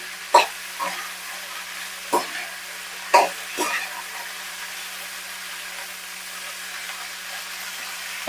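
Cauliflower frying in a pan, with a few scattered stirring scrapes and crackles standing out over a faint, steady sizzle.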